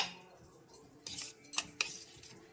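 A metal spoon scrapes and clinks against a pan as ghee is spooned in for carrot halwa, a few quiet, close taps and scrapes over near silence.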